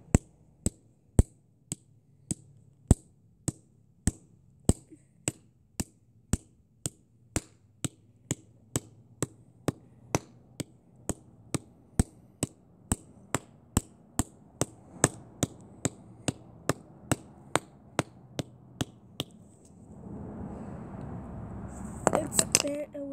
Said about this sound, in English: Let's go ahead and take this hammer.